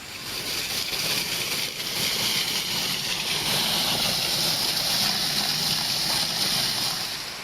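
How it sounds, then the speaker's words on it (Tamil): Heavy monsoon rainwater pours off an elevated flyover in Madurai like a waterfall, a dense, continuous rushing roar of falling water that holds steady and loud across the whole stretch, with no voices over it. "மதுரை நத்தம் பறக்கும் பாலத்தின் மேலிருந்து அருவி போல கொட்டிய மழைநீர் அங்கே நடந்து சென்றவர்களை நனைத்தது."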